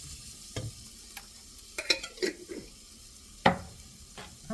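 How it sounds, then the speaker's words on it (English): Spice mix sautéing with vegetables in a pan for a quick curry, heard as a quiet background sizzle broken by a few distinct scraping stirs of the spoon, one louder near the end, with no talking. "Let that bloom a little bit by sauteing it a little bit with the vegetables."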